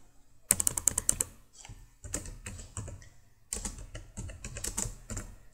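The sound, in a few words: typing Java code on a computer keyboard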